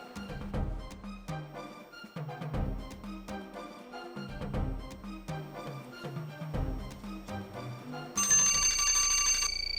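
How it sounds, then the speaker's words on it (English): A quiz timer bell rings at the end of a timed question in a school quiz contest. It comes as a bright, sustained ring over music with a steady beat, and no talk is heard. "That was right after the bell."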